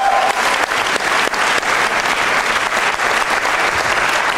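Loud, sustained applause from a studio audience at a comedy stage show, Vitamin Club, with a thick, continuous roar of clapping and a few sharper individual claps standing out.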